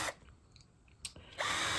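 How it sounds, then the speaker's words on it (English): A power drill bores out holes in an antique Eastlake entry door, with short bursts of high whirring at the start, middle and end and quieter handling between them, close by and with no talk. "I'm going to drill these out and fill them with the dowels"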